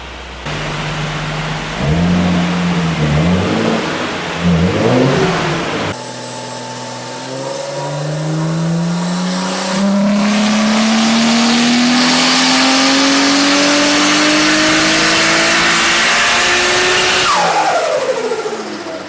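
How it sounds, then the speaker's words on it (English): A Nissan Stagea C34 with an RB25DET turbo engine runs on a dyno, first burbling and blipping, then climbing in a long rising wail through the revs to a loud peak before dropping off. "I can hear a car that I think is my Stagea on the dyno at the moment"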